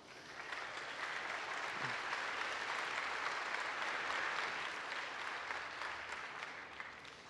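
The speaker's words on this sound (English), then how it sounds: "So please give them a round of applause." An audience applauds at a Google I/O 2017 keynote, a dense, steady wash of clapping that swells and holds for several seconds before tapering off slightly, with no one speaking over it.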